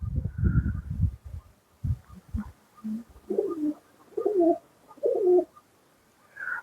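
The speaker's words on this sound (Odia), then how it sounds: "ପାରା ତଥାପି ଖାଉଛନ୍ତି।" Pigeons coo in low, throaty repeated phrases, close by, as they eat paddy grain; several soft coos come in a loose rhythm after a few quieter pecking and shuffling sounds.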